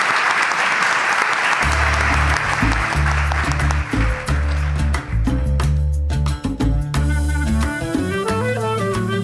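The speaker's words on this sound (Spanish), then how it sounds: "Un aplauso para Lourdes" Audience applause for Lourdes fills the opening, a broad wash of clapping that fades as loud music with a steady beat takes over and continues to the end.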